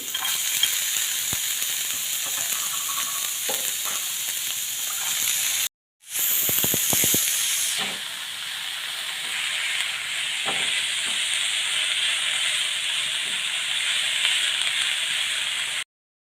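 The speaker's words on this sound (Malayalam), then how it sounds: "ഈ ഒരു പാത്രത്തിലേക്ക് ഞാൻ ഒരു ടീസ്പൂൺ വെളിച്ചെണ്ണ ചേർത്തിട്ടുണ്ട് അതിലേക്ക് നമുക്ക് സവാള എല്ലാ പച്ചക്കറികളും ഒരുമിച്ചിടാം" Onion and mixed vegetables sautéing in a teaspoon of coconut oil for a vegetable omelette, a steady broadband sizzle that runs almost continuously, briefly dropping out and surging back louder as food is stirred, with no talk.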